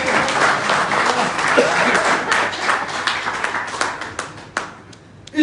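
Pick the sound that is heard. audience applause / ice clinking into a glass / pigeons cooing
audience applause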